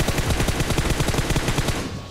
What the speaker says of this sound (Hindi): भाई ने 1000 गोली चला दी भाई पबजी में